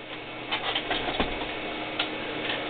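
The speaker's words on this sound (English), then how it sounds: "Tape drives are supposed to make whirring noises." A tape drive inside an IBM PowerServer 230 running a backup, producing a faint mechanical whir with soft irregular ticks and clicks, fairly quiet and steady with no voices.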